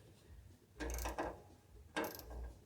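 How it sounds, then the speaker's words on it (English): Two bursts of ratcheting clicks from a wrench loosening bolts, each lasting about half a second, near and fairly loud over a low background hum. "Let's just go ahead and start taking these nuts off."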